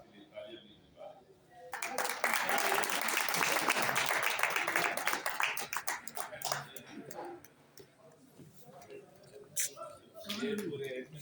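Audience applause at a gift presentation to a group member, starting after a brief quiet moment, swelling into loud sustained clapping, then thinning into scattered claps with a voice speaking over the tail end.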